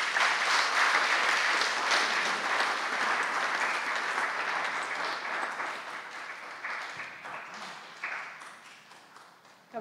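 Congregation at a Sunday church service claps in a round of applause, a full, sustained patter of many hands that gradually thins and becomes more scattered toward the end.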